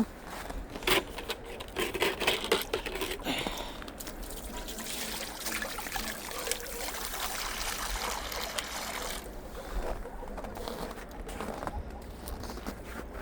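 Hot water splashes and trickles out steadily into a container for chickens on a frozen winter morning, a continuous liquid pour with faint birds and outdoor ambience around it.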